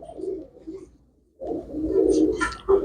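Pigeons kept by a fancier coo in low, throaty murmurs: a short burst, a brief pause, then a longer, fuller stretch of close cooing with a faint higher call near the end.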